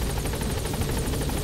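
Helicopter rotors in the video game Metal Gear Solid 5, a steady, dense whir with rhythmic rotor chop filling the whole clip, loud and continuous with no talk.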